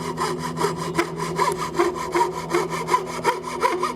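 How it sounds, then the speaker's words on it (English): A coping saw cutting wood along a line started with a jigsaw, in quick, even back-and-forth strokes, close and rhythmic, with no voices. "When you're sawing with a coping saw, it's important to keep that blade horizontal."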